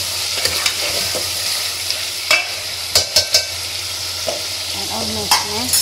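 Bottle gourd and meat curry (lauki gosht) stirred in a pot over low-medium heat, with steady frying sizzle and scattered spoon scrapes and clacks against the pot, close and fairly loud, no talking.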